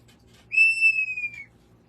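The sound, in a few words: organ pipe being blown like a whistle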